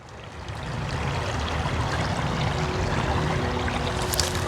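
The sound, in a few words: river water flowing along a trail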